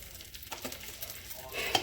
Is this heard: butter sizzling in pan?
yes